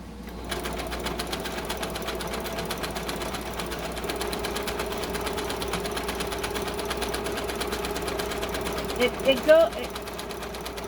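A foot-pedal sewing machine runs steadily while sewing a face mask tube, a close, even mechanical hum with a brief louder clatter near the end.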